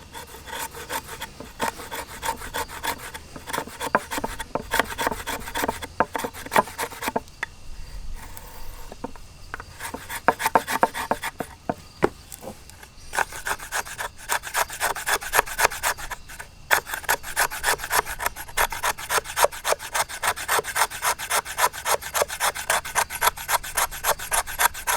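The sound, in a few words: Work Tuff Gear knife scraping wood for tinder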